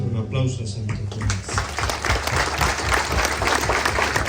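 Applause from a crowd at an outdoor Catholic mass honoring Santo Tomás Apóstol in a neighborhood, clapping rising after a brief sung or spoken phrase, with voices mixed in over a steady patter of hands.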